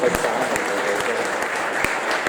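A crowd at an Italian feast-day twinning gathering applauds on request, a steady, moderate patter of many hands with a few sharper claps standing out.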